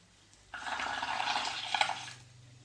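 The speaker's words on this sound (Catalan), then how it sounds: "que bufin cap a fora. I sortiran moltes bombolles del color groc." Bubbling burst from blowing through a straw into yellow paint, a steady frothy gurgle lasting about a second and a half, close and moderately loud, with no talking.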